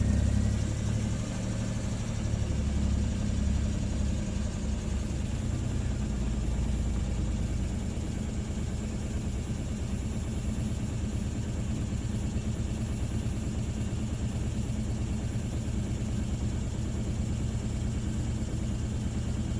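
A car engine idles steadily at 1100 rpm up close, a continuous low hum and rumble with no talking, holding an even pitch throughout.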